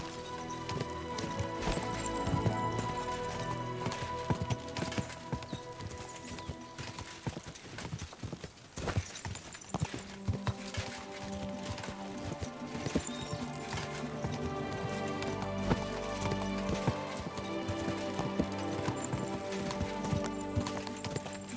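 Horse hooves clip-clop steadily while riding in the medieval game Kingdom Come Deliverance II, a continuous rhythmic gait under a full layer of music and ambience, with occasional neighs.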